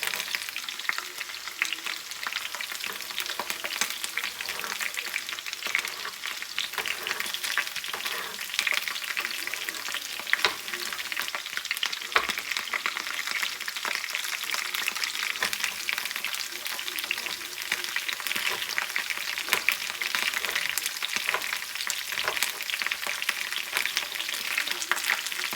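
Potatoes and onion fry steadily in a pan, giving a constant close, crackling sizzle with scattered pops and no speech.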